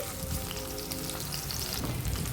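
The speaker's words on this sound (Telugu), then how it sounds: "వంకాయ ముక్కలు వేసాక ఆయిల్లో ఫ్రై చేసుకోవాలండి వంకాయ ముక్కల్ని కాస్త ఆయిల్లో మగ్గించుకోవాలి" Brinjal pieces fry in hot oil with a dense, even sizzle and crackle that carries on without a break, close and fairly loud, with no voices.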